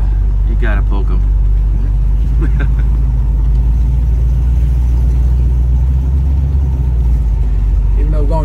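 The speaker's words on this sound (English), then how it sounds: "Even though we're going slow now, this car is highway friendly." A 1932 Ford Phaeton convertible rolls along slowly, its engine a low, steady rumble beneath conversation, with the speakers talking over it throughout.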